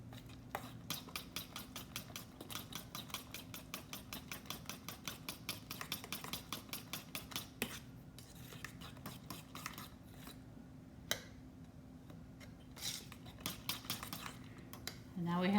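Banana bread batter for Jamaican banana bread is mixed briskly in a bowl, giving a close, steady run of rapid clinking and scraping strokes that thin out toward the end.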